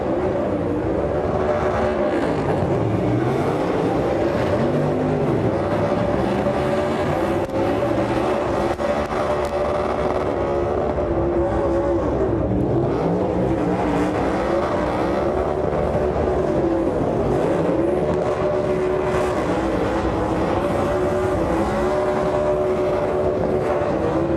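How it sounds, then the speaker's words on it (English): A NASCAR Cup Series race car does a burnout in front of a stadium crowd, its engine roaring continuously with rising and falling revs and tire noise, loud and sustained for the whole stretch. "Going to do a burnout right here in front of everybody in the stadium."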